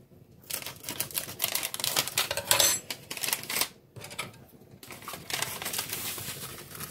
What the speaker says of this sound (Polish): I sypię do kubka 2 takie czubate łyżeczki żelatyny.